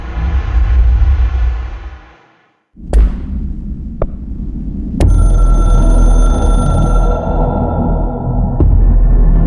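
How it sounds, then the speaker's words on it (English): A bright electronic hotline telephone ring in the game Control sounds over a dense, droning soundscape, with sharp tonal chimes cutting in and sustained high tones lingering. "I can hear the hotline ringing in my dreams, constantly ringing."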